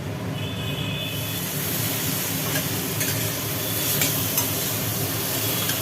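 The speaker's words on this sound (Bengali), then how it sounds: "এতক্ষণ ভাজাভাজি চলল" Steady sizzling of potato and ridge gourd frying in oil, with occasional scraping and stirring clicks, continuous and close.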